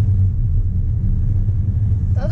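Powerful Bentley Bentayga SUV engine while driving, a steady low rumble heard from inside the cabin, continuous and fairly loud with no speech over it.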